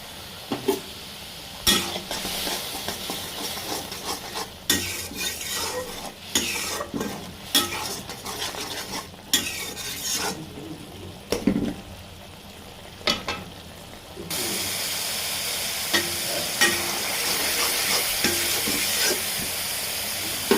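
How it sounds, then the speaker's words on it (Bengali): Masala spice paste frying in a pan for a prawn and turnip curry: sizzling and hissing with frequent scraping stirs and clanks, then a steadier louder fry toward the end, with no talking. "মশলাটাকে পাঁচ মিনিট কষিয়ে নেব"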